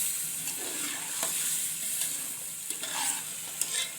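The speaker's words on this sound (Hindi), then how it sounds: "मसाले को ज़रा सा भून लेंगे" Spice masala frying and being stirred in a pan for an aloo chicken dish, a steady hiss of sizzling broken by occasional scrapes and clicks of the spoon, close and without talk.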